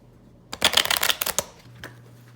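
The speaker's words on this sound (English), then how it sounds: "I'm just still shuffling his deck" A deck of Star Trek Frontiers game cards being shuffled, a quick burst of close riffling flutters lasting about a second, followed by a lone tap.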